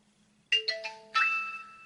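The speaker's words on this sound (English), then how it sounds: "Okay, we hear the chime." A Reolink Altas PT Ultra camera plays its reset chime, a short rising sequence of clear electronic tones ending on a sustained note, loud and close in an otherwise quiet room.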